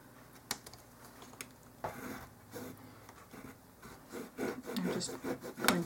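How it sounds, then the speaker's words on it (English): A ball tool dragged back and forth to score material for a miniature dollhouse chair, giving faint, close scratchy rubbing strokes in uneven short bursts with no talking. "Back and forth with my ball tool"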